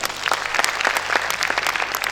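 Audience at a Lahore fitness expo seminar breaks into steady, dense applause, many hands clapping together at moderate loudness for a couple of seconds with no talk over it.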